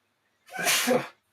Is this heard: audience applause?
no